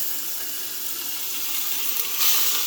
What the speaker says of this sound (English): place our pork chops and just set them down in that hot pan right there